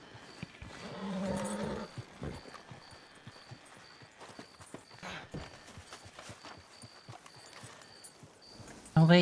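A wild-caught Appaloosa horse in a roleplay video game gives soft, scattered hoof clops at moderate distance, with faint game ambience and a brief louder burst at the end.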